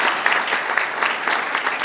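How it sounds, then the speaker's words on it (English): Applause from a banquet audience at a Springfield Public Schools co-op dinner, a steady dense clapping that fills the room without break, loud and close, with no talk over it. "let's give them a round of applause"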